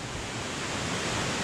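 A wide river flows at Pattunuang in Maros, Sulawesi, as a steady, full rushing wash of water with no pauses and no voices.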